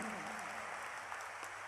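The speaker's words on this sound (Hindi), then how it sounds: "जोरदार तालियों से अभिनंदन।" A crowd at a Hindu religious discourse gathering honoring the Bageshwar Dham guru applauds briefly, the clapping faint and distant, a soft wash lasting under two seconds.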